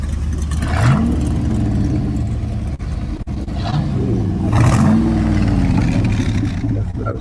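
A modified Corvette engine at a muscle car show revs in rising and falling surges over a deep idle, loud and close, with people talking over it.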